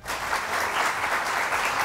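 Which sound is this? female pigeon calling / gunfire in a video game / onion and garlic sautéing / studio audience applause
studio audience applause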